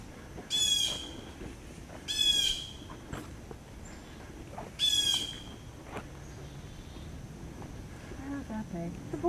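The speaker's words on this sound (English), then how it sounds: "blue jay" A blue jay gives three harsh, raspy squawking calls spaced a couple of seconds apart, fairly clear outdoors in woods near Tripod Rock over a faint background hum.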